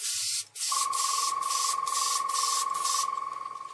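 Mr Hobby metal colour spray paint hissing steadily from an aerosol can onto a test piece, a close continuous spray with a brief break near the start and a sustained tonal whine running beneath.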